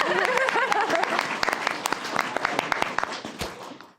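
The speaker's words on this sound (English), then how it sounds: "You can applaud for him." Audience applause at a city council meeting in Oldsmar, a dense burst of clapping that holds for several seconds and then fades away, with a voice and some chuckling heard under it.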